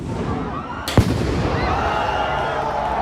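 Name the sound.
fireworks exploding during protest clash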